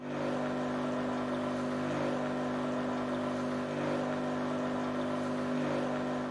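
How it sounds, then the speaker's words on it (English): An Electactic 80431KCM0 espresso machine dispensing coffee, a steady loud motorized hum with a constant pump drone running throughout, no voices. "the machine starts to dispense coffee"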